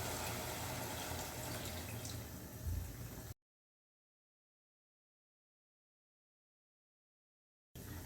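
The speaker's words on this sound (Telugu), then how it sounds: "ఈ టైంలో గోంగూరకు కూడా కావాల్సినంత వాటర్ వేసుకుందాం." Water pours into a pot of gongura prawn curry as a steady, dense splashing that runs for a little over three seconds before cutting off abruptly, with a brief return at the end.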